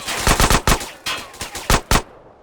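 Gunfire in the video game GTA San Andreas, a series of loud, sharp shots in quick bursts of two or three, closely spaced, with no talk over them.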